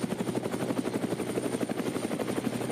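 A helicopter filming above the Nürburgring circuit during a VLN endurance race gives off a loud, close, rapid rotor chop that pulses evenly throughout, with no talk.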